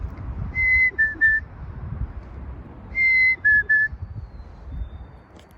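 Human whistling imitates a chickadee call in two phrases, each a high clear note followed by two shorter lower notes, fairly close and distinct over faint background rumble, with no talking.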